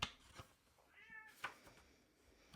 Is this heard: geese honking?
no